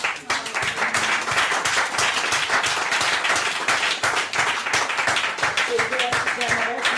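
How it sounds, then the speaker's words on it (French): A church congregation breaks into sustained applause during a worship service, a dense steady patter of many hands clapping for several seconds with a faint voice underneath. "on va applaudir le Seigneur"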